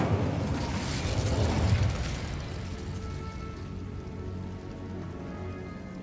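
An Incendio fire spell cast in the video game Hogwarts Legacy, a dense roaring burst of flame that swells for about two seconds, then settles into a long crackling, hissing fade; no talking.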